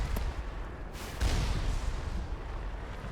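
Enemy gunfire in the video game Mass Effect, a dense rumbling barrage of booming shots with a louder burst partway through, continuous and close with no talking.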